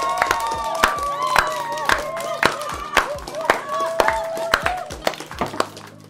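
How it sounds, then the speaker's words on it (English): At a 40 Big Mac eating challenge among friends, a group claps in a steady rhythmic beat while people cheer and shout over it, the claps sharp and close throughout. "Let's stand up and clap."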